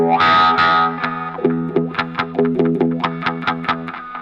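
An electric guitar runs through the MusicomLab EFX MK-V multi-effects unit, with distorted strummed chords swept by a wah on the expression pedal and repeating plucked notes trailing into delay, loud and steady.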